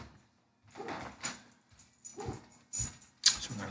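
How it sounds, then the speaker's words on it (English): A dog barks outside, heard faintly at a distance as a handful of separate barks with short gaps between them in an otherwise quiet room. "Y'all hear my dog barking out there."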